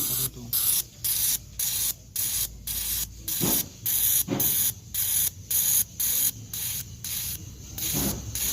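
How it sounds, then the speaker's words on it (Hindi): A car fuel injector on a test bench for a 2016 engine with a misfire fires in rhythmic hissing bursts, evenly pulsed sprays repeating up close with short gaps, a few faint clicks between. "इंजेक्टर जो है ना सही स्प्रे कर रहे हैं।"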